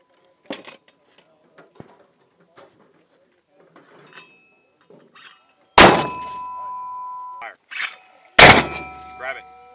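An M252 81mm mortar fires twice, each a sudden loud blast with a ringing tail, amid faint clanks and handling sounds on an outdoor range, with commands shouted between rounds.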